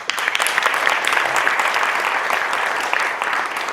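Sustained crowd applause for a saxophonist at a community awards event, dense even clapping at steady loudness throughout.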